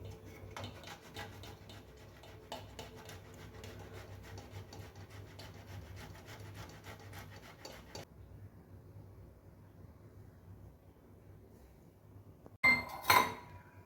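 A ripe mango is grated into paste with a cutter for homemade jelly candy, making faint, rhythmic rubbing and scraping strokes that pause briefly and end with a sharp clink.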